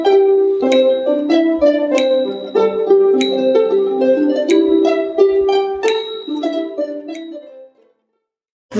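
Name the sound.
Myanmar zongsi: timing bell and clapper played together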